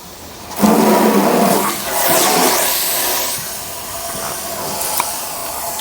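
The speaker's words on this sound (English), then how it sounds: "I'm just gonna go ahead and wet down my gravel before I start." Water gushes from a hose onto gravel in a wheelbarrow before concrete mixing, starting abruptly with a loud splashing rush that eases into a softer, steady trickle and hiss, close by with no talk.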